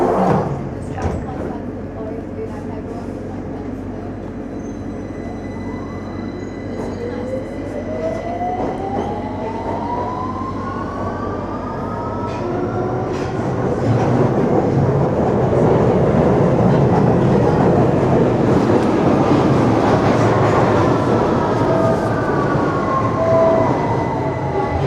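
A train rolls along on the journey from Manchester toward the Netherlands, with a steady low rumble of the carriage, rising squealing wheel tones and building clatter as speed picks up, heard from inside the car.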